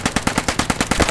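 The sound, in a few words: gunfire in a firefight, from a video game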